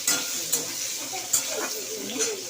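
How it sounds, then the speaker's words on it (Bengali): Pointed gourd frying in a wok, a steady bright sizzle with a few sharp clinks of a spatula against the pan, close by. "আর এখন কড়াই পটলটা ভাজছি।"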